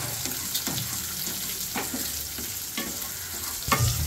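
Onion and garlic sautéing in a pan with curry leaves and salt for a Tamil wedding-style vatha kuzhambu, a steady close sizzle of frying with periodic scraping stirs, no voices.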